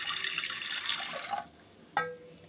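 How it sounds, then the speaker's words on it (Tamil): Water pours from a vessel onto washed moong dal in a cooking pot, a steady splashing rush for over a second, then it stops, followed by a single faint clink. "பாசிப்பருப்பு வேகிறதுக்கு தேவையான அளவு தண்ணி ஊற்றிக்கலாம்"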